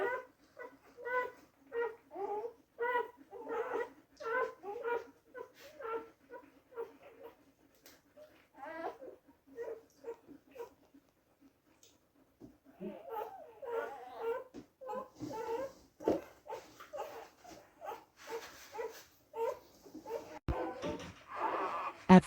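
Newborn puppies whimper and squeak in a rapid run of short, high cries, nearby and fairly loud. A pause follows, then the cries return under soft talk and handling noises.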